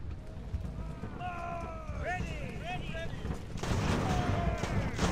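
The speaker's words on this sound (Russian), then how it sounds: "Пушка долбит" Booming cannon shots and crackling musket fire from a battle in Ultimate Admiral: Age of Sail, mixed with shouting voices and whistling tones, growing louder and denser toward the end.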